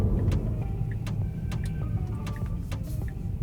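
A Tesla weaves through gentle S-turns, giving a low, steady interior road rumble with faint ticking and whirring, heard up close and without talk.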